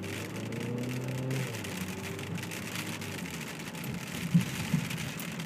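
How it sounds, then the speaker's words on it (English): Steady rain patters down, broadband hiss building under a low engine hum from a 2012 Ford Focus Titanium that fades early, with a couple of louder drops near the end. "you guys can hear it starting to rain now"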